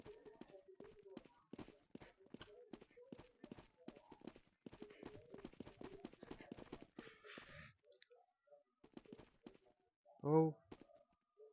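A horse walks in a video game, its hooves clip-clopping in a quiet, uneven run of soft near steps, with a brief rustle and a louder burst partway through.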